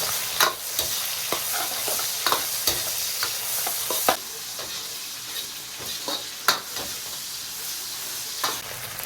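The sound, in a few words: stir-frying doubanjiang bean paste and hot pot base in oil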